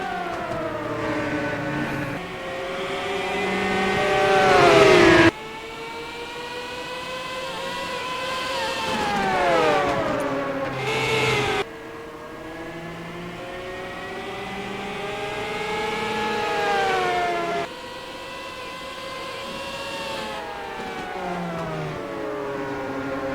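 IndyCar race cars at Richmond in a racing video game, their engines roaring loud and continuous with rising and falling pitch as they accelerate and shift up, clear cuts between gear changes.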